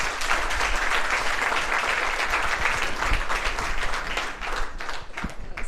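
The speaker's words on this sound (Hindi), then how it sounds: "तो जोरदार तालियां बजाएं उनके लिए।" Loud, dense applause from an audience at a Teachers Day celebration, greeting a teacher as she comes forward; steady, unbroken clapping for nearly six seconds, tapering slightly at the end.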